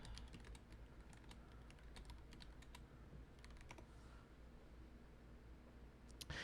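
Rapid bursts of keyboard clicks, quick and irregular, with brief pauses between runs, faint against a low steady background hum.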